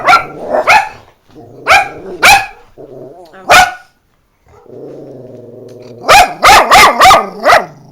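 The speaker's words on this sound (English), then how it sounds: "I hear the dog barking next door." A small dog barks repeatedly in sharp bursts close by, with a low growl in the middle and a fast run of barks at the end, with no talking.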